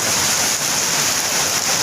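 Hail and rain drum on a tin roof during a storm, a loud, continuous close-up roar of dense impacts on metal sheeting with no voices.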